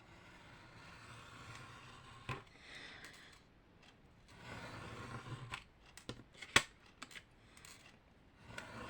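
Scissors snip at paper in scattered, quiet cuts with rustling in between, close and fairly faint.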